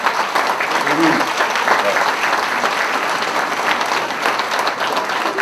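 Audience applause for a municipal council at a New Year's greetings ceremony, with dense, steady clapping from a large indoor crowd throughout, and no talk over it.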